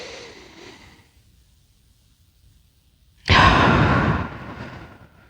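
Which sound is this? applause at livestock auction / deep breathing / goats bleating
deep breathing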